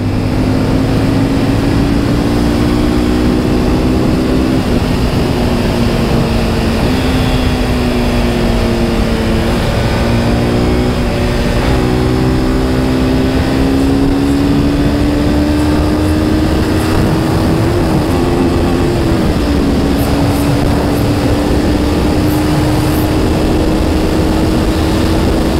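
A vehicle engine drones steadily through a fast, aggressive downhill ride from Darjeeling toward Kolkata in fifth gear, its pitch rising and dipping slightly with speed changes, loud and continuous beneath heavy wind rush, with no talk.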